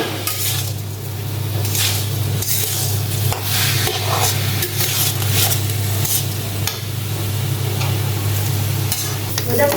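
Stirring and frying in ghee while cooking Bengali-style pork biryani: a steady sizzle holds under repeated scraping and clinking of a spoon against the pot, continuous and fairly loud, with no talking.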